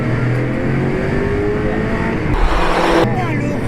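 Porsche 993 Cup race car on a track, engine droning loudly and building under acceleration with a few gear changes and shifts in tone, steady and close throughout.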